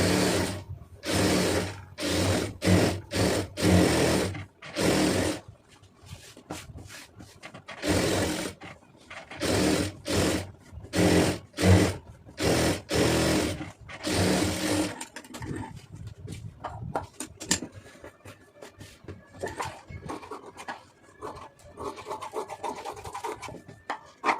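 Sewing machine stitching around the edge of a lining blouse, with rapid bursts of mechanical whirring that start and stop repeatedly, followed by quieter fabric handling and rustling near the end.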